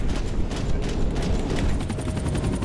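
Rapid gunfire from the video game Max Payne 3, a dense continuous barrage of shots with mechanical clatter during a fight against a helicopter, loud and steady throughout with no talk.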